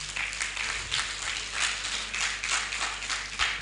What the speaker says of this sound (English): let's clap hands for ourselves